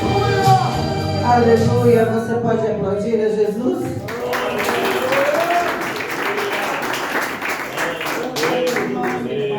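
A church congregation bursts into sustained clapping after music and singing give way, a dense wash of applause filling the room for the last several seconds, with voices mixed in.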